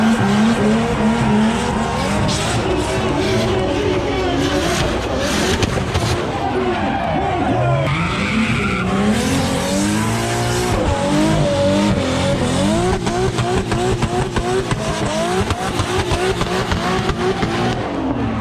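A loud engine revs hard while tires squeal and skid continuously in a sustained burnout at a burnout contest, with crowd noise and shouting mixed in.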